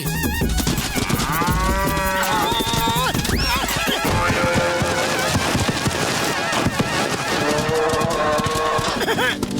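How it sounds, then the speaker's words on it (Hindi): A cartoon buffalo moos after being struck by a coconut, amid a dense animated soundtrack of music, animal calls, clip-clopping and voices, loud and busy throughout. "ओ सॉरी भैंसी, नारियल गलती से आपको लग गया"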